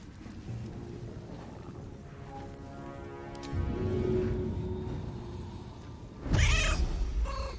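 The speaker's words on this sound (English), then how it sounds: "Kitty coming in." A cat meows in drawn-out, wavering calls, the last one louder and harsher, over steady background noise from Baldur's Gate 3 gameplay, with no talk.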